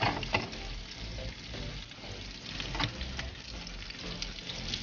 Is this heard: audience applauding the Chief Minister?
no